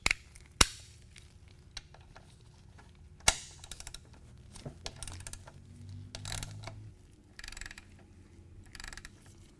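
A socket wrench on a 5/8 inch socket ratchets out the primary drain plug of a Harley-Davidson motorcycle, giving quiet, close clicking bursts with sharp metallic taps and scattered knocks.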